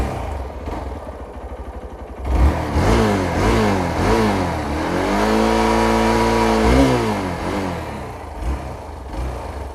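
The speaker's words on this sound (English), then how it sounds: "Before that, we'll check the exhaust now." A BS6 Hero Xpulse 200 motorcycle engine idles, then revs up and down several times, rising to a held high rev before dropping back, loud and close.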